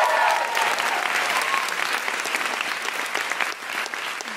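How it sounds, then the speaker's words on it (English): Studio audience at a comedy panel show clapping steadily, a full, dense round of applause that stays loud and close for several seconds before easing slightly. "Round of applause, please."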